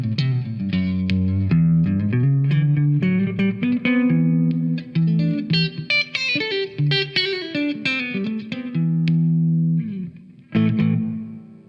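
A James Collins Redwood GTO electric guitar plays a melodic phrase on a clean tone with the coil tap engaged, single notes and chords ringing with light reverb, loud and alone before a brief pause and a final chord.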